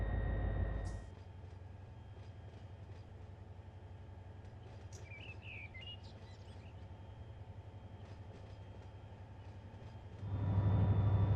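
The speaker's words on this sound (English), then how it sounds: "The whole train is now moving." A BNSF freight train in Run8 Train Simulator moving off in Alabama, giving a steady low rumble and hum with faint clicks and a brief beep, then a louder engine drone swelling at the end.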